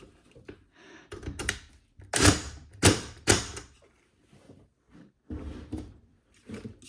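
Impact wrench giving a few quick bursts to tighten the bolt on a shop vac fan blade, three loud close rattling hits in a row amid quieter handling clatter.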